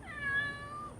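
A cat lets out a single close, clear meow, drawn out with a slight pitch bend, over quiet background.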